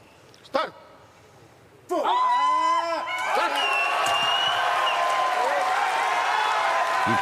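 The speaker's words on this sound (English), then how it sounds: "Cheers from the crowd, and a perfect start to the competition." A crowd at a Paralympic women's up to 55 kg para powerlifting event in Paris erupts into loud, sustained cheering and shouting right after a 117 kg lift, following a sharp thump and a quieter moment.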